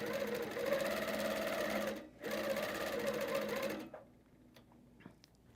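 Sewing machine fitted with a TruStitch stitch regulator running steady, fast stitching, loud and close, with a brief pause near two seconds, then stopping just before four seconds, leaving quiet handling clicks.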